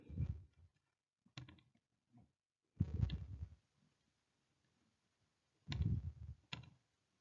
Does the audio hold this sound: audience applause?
no